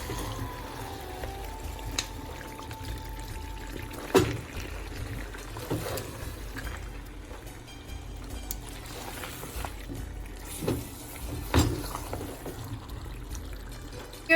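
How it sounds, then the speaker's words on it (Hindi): A glass of water pours into achar gosht curry, a steady splashing trickle running for several seconds with a few louder knocks and clatters, without talk. "हमने इसमें डाला है 1 गिलास पानी का"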